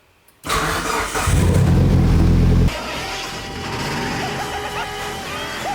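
A fully built Mitsubishi Evo 9 engine cranks and fires for the first time, a loud rough catch settling after a couple of seconds into a steady, slightly uneven idle close by.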